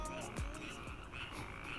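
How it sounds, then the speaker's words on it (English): A chorus of frogs croaking outdoors during a wedding ceremony, faint repeated croaks over a steady background hum, with no speech. "the frogs are even joining in the celebration"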